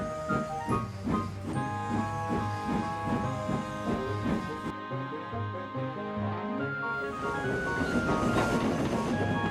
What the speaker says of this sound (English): The heavy train drew out of the platform.